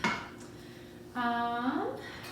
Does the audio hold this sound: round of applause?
no